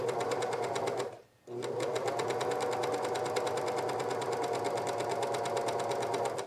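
A cover stitch sewing machine runs steadily through fabric while a dress is sewn, a fast close mechanical whir with one brief pause before it resumes at full speed.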